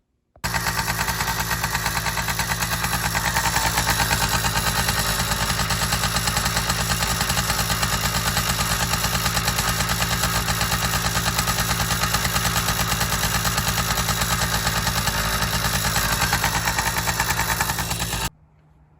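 A motorized bicycle fitted with billet side covers and a high-compression head runs steadily for about eighteen seconds, a loud, close, buzzing two-stroke drone that holds an even pitch during a short road ride, then cuts off abruptly.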